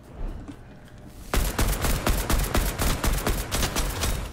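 Rapid bursts of weapon gunfire in the video game Fortnite, a dense string of sharp shots beginning abruptly after a quieter lead-in and continuing steadily at close range.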